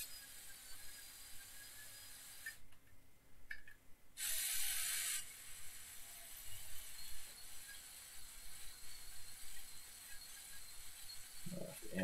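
Steering mechanism of a small model car turning left and right in a workshop, giving a faint mechanical whir and ratcheting with short bursts and pauses, alone with no talk.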